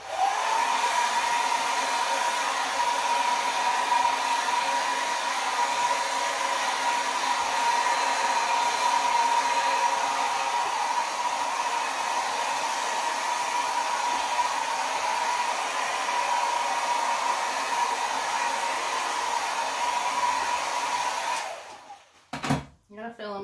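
A hair dryer blows across wet acrylic pour paint, a loud steady close whoosh with a high whine that runs for about twenty seconds and then cuts off abruptly.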